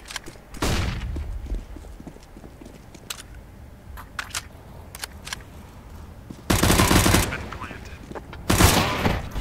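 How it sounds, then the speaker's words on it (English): Gunfire and a flashbang going off in the tactical shooter CS GO, with sharp bursts of shots near the start and two loud broad blasts toward the end over faint background game noise. "Throwing flashbang."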